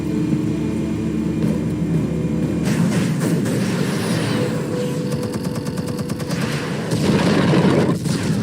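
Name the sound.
explosion in the video game Batman The Telltale Series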